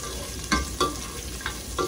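Onions sautéing in a pan, a constant close sizzle broken by a few distinct scrapes of a utensil stirring at a slow, uneven pace.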